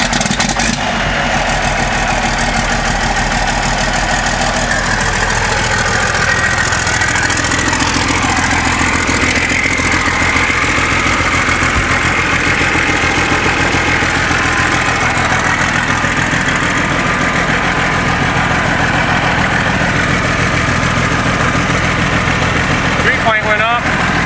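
A John Deere 4850 tractor's engine runs steadily and loud after being started for the first time following a hydraulic pump install, a constant close diesel drone lasting the whole stretch with no clear pauses.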